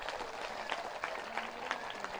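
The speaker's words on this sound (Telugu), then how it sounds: "ఒక పరి గోవిందుడికి గట్టిగా చప్పట్లు కొడదాం." An audience at a rally event claps together for a short stretch, a dense, fairly steady patter of many hands at moderate distance with a faint voice underneath.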